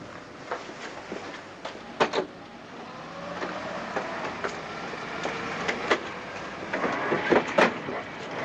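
A train travelling in a radio drama, a continuous rumbling clatter with scattered sharp clicks and knocks, steady and fairly close, with no speech.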